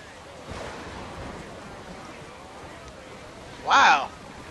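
Ocean waves and wind at sea in Assassin's Creed Black Flag, with a waterspout nearby: a steady low wash of surf and wind, rising to a loud, brief roaring swell near the end.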